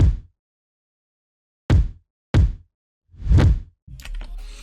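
A kick drum sample from a sample pack hits four separate times with short silent gaps between hits, each one a loud, deep thump, the last swelling slightly longer before a brief tonal tail.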